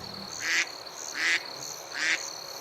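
Ducks give three evenly spaced, fairly loud quacks, each about half a second long, with short pauses between them and no talking.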